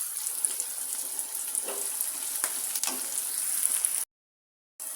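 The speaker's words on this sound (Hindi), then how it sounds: "गरम मसाले को मैंने फ्राई कर लिया।" Whole garam masala fries in hot oil for an egg mince dish, giving a steady hissing sizzle with faint stirring taps, then cutting to silence briefly before the sizzle returns.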